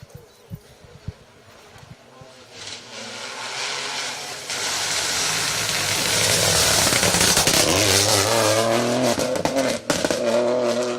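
Skoda Fabia S2000 2.5 litre rally car on an asphalt rally stage, its engine faint and distant at first, then swelling loud and close as it drives hard past, revving steadily.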